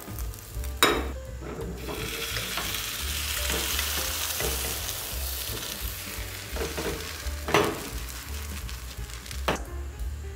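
A carrot and egg snack fries in a frying pan, a steady close sizzle with intermittent bubbling and a few sharp knocks and scrapes from handling, no talking over it.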